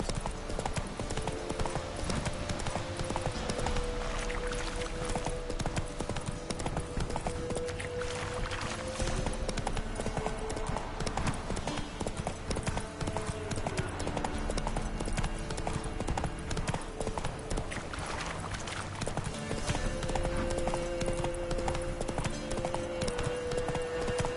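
Horse hooves clip-clop at a steady riding gait in The Witcher video game, a continuous even rhythm with background music throughout.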